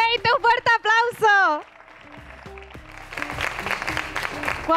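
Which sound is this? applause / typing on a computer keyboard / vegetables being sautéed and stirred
applause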